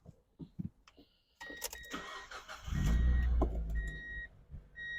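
A 2002 Mazda MX-5 Miata LS with a six-speed manual cranks and fires up with its top down, settling into a steady idle after a few clicks and a brief whir, close and without talk.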